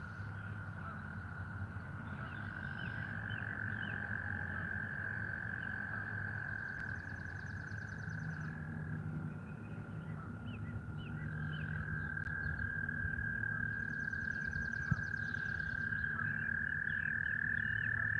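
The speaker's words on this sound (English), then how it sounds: "the frogs are certainly spawning" Spawning frogs croak in a steady, dense chorus that runs the whole time, with a constant high trill over a rumbling outdoor bed near a carp fishing spot.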